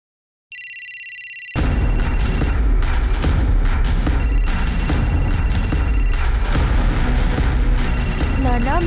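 A telephone rings in a Telugu crime drama, a bright electronic ring sounding in repeated bursts over a loud, dense background of dramatic sound.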